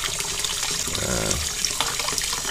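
A tap runs as water is changed in a small pet fish tank, with a brief gush and splash in the middle that settles into a lighter trickle.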